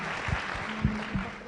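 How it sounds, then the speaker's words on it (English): Applause at a tech talk and web development graduation for an organizing team, a short stretch of scattered clapping with a few sharper claps and a faint tonal hum. "Can we give them a huge round of applause for organizing this?"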